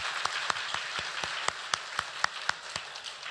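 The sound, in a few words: congregation clapping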